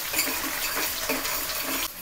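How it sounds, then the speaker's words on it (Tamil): Onion and green chillies fry in a pan for a crab and prawn masala, with metal spoon scrapes and clinks of stirring over a soft sizzle, close and continuous, no voices. "ஸோ இந்த ஆனியன் வந்து ஃப்ரை ஆகட்டும் நல்லா."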